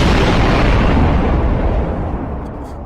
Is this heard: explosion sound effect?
yes